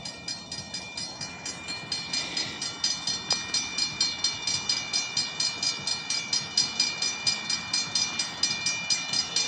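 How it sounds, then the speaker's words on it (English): A train rolls slowly past a street corner, its wheels producing an even, repeating clickety-clack that stays steady and fairly near throughout, with no talk. "Boy, the train's moving slow today."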